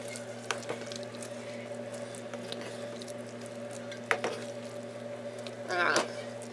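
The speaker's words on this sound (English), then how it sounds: "I'm just going to let it simmer and just cook" A pot of red beans and rice with smoked turkey tails, sausage and jalapenos simmers on the stove, giving faint, sporadic soft bubbling pops and squishes over a constant low kitchen hum.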